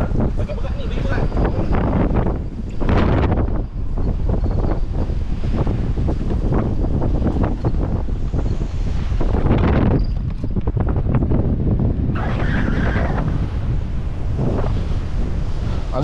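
Strong wind buffets the microphone while people fish under a bridge, with roaring gusts rising and falling throughout, waves or surf beneath, and voices heard at times.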